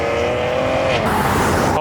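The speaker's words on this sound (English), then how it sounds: "the Supra is about to leave" A Toyota Supra sports car pulling away from a car meet, engine note rising loudly as it accelerates close by, with a brief burst of tire noise near the end.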